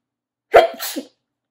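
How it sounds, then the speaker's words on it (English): A single sharp sneeze bursts out, close and fairly loud, with a quick intake and explosive release, then silence. "I'm gonna sneeze."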